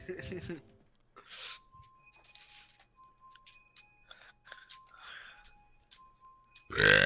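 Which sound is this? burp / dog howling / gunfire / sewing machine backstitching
burp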